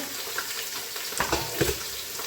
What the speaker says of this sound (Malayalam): ഇങ്ങനെ വഴറ്റണം